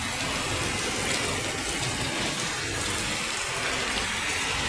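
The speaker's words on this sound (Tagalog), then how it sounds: "ang lakas ng ulan mga kadyan. Lalaki ng patak ng ulan." Steady, dense rain pouring down, a constant broadband hiss with heavy drops pattering on surfaces, continuous and close, with no voices.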